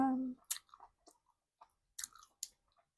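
A tuna sandwich is chewed close up in a late-night eating scene, with soft, sparse crunching and wet bites spaced out over a quiet background after a brief murmur at the start.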